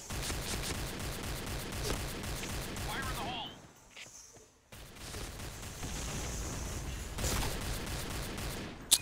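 Near-constant bursts of gunfire from the PointBlank shooter game rattle on, briefly dropping away before the firing resumes, with a player talking over it.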